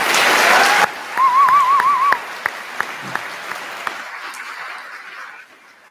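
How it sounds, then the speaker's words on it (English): Audience applause for the speakers at the Monroe County Middle College 2022 graduation ceremony, a full round of clapping that breaks off quickly and trails into a few scattered last claps. "Let's give our speakers one more round of applause."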